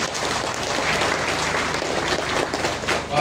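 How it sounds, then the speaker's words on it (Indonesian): A parish audience at a Catholic ordination celebration in Timor applauds three priests, close and full-bodied clapping from a large group, steady throughout with no voices. "Kita tepuk tangan dulu untuk 3 imam"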